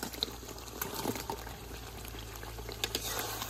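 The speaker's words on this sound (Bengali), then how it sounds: "মশলাটা আমি খুব ভালোভাবে কষিয়ে নিচ্ছি" Spice masala frying in a pan with salt in a village kitchen, a soft continuous sizzle and bubbling with scattered crackles and occasional stirring clinks, quiet and close.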